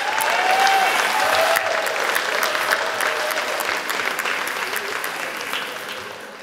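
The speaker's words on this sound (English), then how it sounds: "let us recognize our highly commended teams with a round of applause." Audience applause at a staff recognition and long service awards ceremony for an NHS mental health trust, a steady dense wash of clapping that stays loud throughout and tapers slightly at the end.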